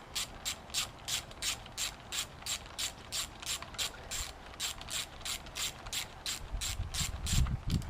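A ratchet clicks in a steady rapid rhythm while tightening down the clutch housing on a brand-new full-mod OBR 30.5cc engine, close and clear, with a low thump near the end.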